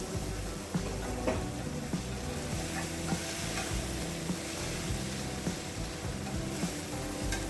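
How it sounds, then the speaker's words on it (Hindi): Continuous loud sizzling of minced meat and tomatoes frying in a pan for keema karela, with occasional scraping and stirring knocks, no voices. "उसको भी अच्छी तरह भून लेंगे इसके साथ"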